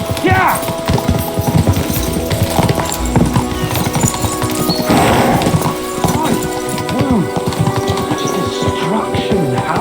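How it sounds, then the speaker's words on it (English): Horses gallop in Kingdom Come Deliverance 2, their hooves clip-clopping in a loud, steady, rapid rhythm, with an occasional whinny and talking over the hoofbeats. "We should spur the horses on."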